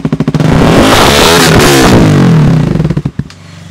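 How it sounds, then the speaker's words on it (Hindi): A loud KTM Duke 200 motorcycle with a modified aftermarket exhaust revs hard and close, holding a raw, crackling roar for a couple of seconds before dropping back and popping. "ये है इसकी आइडल पर साउंड, और अब मैं देता हूँ थ्रोटल"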